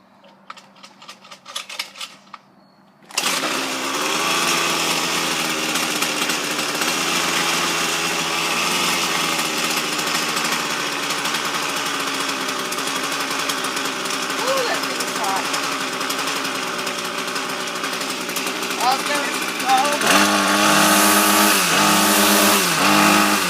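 Weed eater engine running loud and close after a cold start, a buzzing steady drone with a revving surge near the end, following a brief clattering start.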